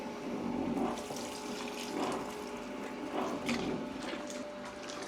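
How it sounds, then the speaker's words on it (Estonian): Water trickles and splashes into a belt-driven kneading mixer working pizza dough, over a steady mechanical hum and soft churning, fairly quiet and without speech. "Natuke panen vett juurde."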